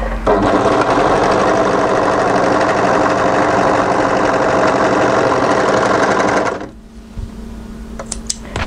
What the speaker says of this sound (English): we just want to um, overlock directly on the edge through both layers